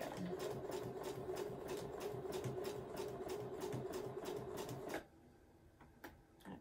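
A sewing machine runs at a fast, rhythmic clatter while back stitching fabric, close and steady for about five seconds before stopping, followed by a few faint clicks.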